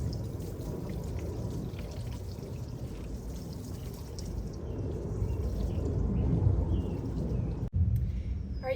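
Water mixed with plant food poured from a container onto front-yard garden plants, a steady splashing gush that grows louder toward the end, then breaks off briefly before resuming.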